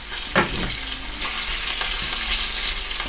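Chicken wings brown in a hot pan, giving a steady loud sizzle and frying hiss with a brief stir or shift near the start and no talking.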